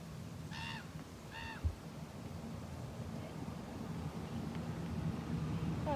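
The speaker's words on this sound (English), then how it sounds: "I love when the birds call." Two short bursts of honking bird calls, likely geese, sound early on during an outdoor walk, heard over a steady background of wind and low rumble.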